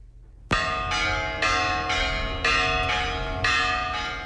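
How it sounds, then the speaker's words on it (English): Church bells of San Ramon in Madrid ringing out over the plaza, loud, resonant strikes about once a second, each ringing on and overlapping the next, with no voices. "The bells of the Church of San Ramon ring out in Madrid."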